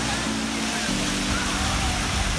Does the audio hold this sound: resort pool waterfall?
yes